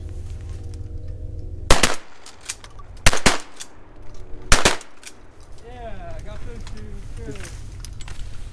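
Three sharp, loud shotgun blasts ring out in quick succession at a public-land duck hunt as mallards land about 35 to 40 yards out, followed by duck quacking and calling against a steady outdoor background.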